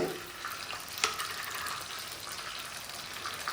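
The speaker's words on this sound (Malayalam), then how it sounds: "ഇതിലേക്ക് കടുക് ഇടുന്നുണ്ട് 1 സ്പൂണ്." Mustard seeds and dried chillies fry in hot coconut oil with a loud, dense crackling sizzle that stays close and continuous, with a single sharper pop early on.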